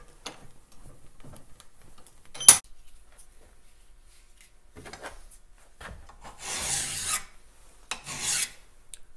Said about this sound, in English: So this one here, I can file a little bit crooked.